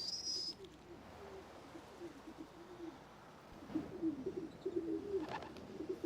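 City pigeons cooing in soft, repeated low rolling calls, close and fairly quiet, with a brief chirp at the start and the coos growing fuller toward the end.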